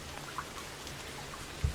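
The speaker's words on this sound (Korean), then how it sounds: "요란한 빗소리" Heavy rain pours down on a forest, a dense and even wash of falling water with a few louder drop impacts and a faint low thump near the end.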